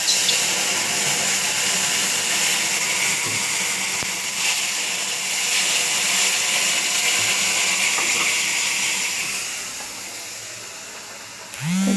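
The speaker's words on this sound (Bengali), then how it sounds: "একটু জল দিয়ে দিলাম।" A little water goes into a hot cooking pot, raising a loud, steady hiss that runs nearly unbroken, close by, then eases off just before the end, with no talking.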